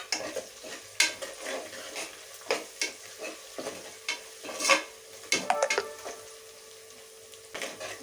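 Mustard seeds, cumin and dried red chillies sizzling in hot oil in a pan for a fish curry, with a spoon stirring and tapping the pan in irregular scrapes and knocks, close up with no talking.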